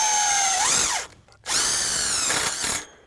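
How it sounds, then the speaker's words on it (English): A power drill whirs while driving a screw through a metal strap on a DIY greenhouse frame, spinning up loud, dropping out briefly, then running again before stopping. "we're going to put a screw through the middle of the strap"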